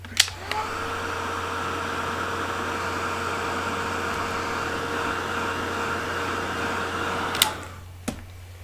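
A hair dryer blows steadily over a freshly painted piece done with Caran d'Ache Museum watercolor media, a constant whooshing roar that switches on with a click and cuts off near the end with a couple of knocks.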